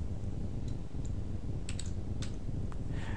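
Rapid keystrokes tapped on a computer keyboard while a file name is entered, a quick run of light clicks over a steady background hum.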